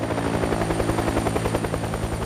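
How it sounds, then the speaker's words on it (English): Helicopter rotor blades thump in a rapid, even rhythm, loud and close, over a steady engine drone with no talking. "I need to order a helicopter to pick me up."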